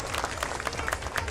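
A crowd at a basketball tournament final applauds a player's throw with a brief burst of scattered clapping from nearby spectators.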